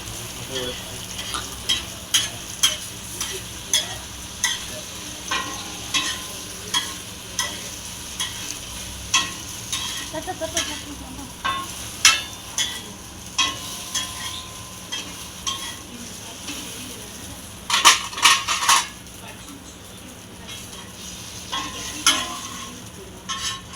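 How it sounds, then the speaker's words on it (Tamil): Beaten egg cooks in melted butter in a pan, a low steady sizzle broken by regular scraping strokes of a spatula, close and alone. "இப்போ அந்த கலக்கினதை முட்டையை ஊற்றிட்டு"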